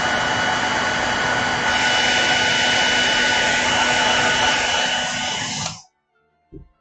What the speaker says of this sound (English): So I'm gonna get my hairdryer out right quick.